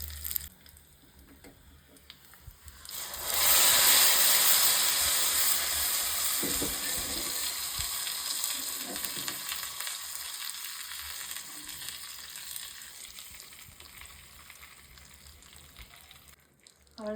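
Curry leaves and asafoetida hit hot oil in a South Indian tempering for vendakkai mor kuzhambu, a sudden loud burst of sizzling that settles into a steady crackle and slowly fades.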